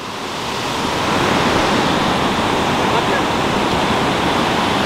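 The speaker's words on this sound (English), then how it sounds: "Now, as you can see, all the water's coming down." Water pours down at a hydroelectric plant in a loud, steady roar that builds over the first second and then holds constant, with no voices.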